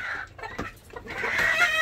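Chickens cluck in a coop floored with fresh wood chips and shavings, a few short, close calls in quick succession.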